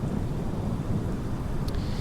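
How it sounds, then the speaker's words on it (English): Steady rain with low thunder rumbling over Samos in Microsoft Flight Simulator 2020, a continuous dense wash of rainfall and deep rumble with no talking. "Here's Samos in the rain"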